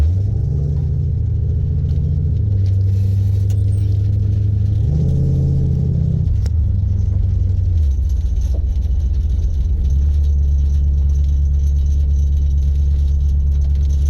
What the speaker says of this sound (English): the nice rumble of the exhaust on this thing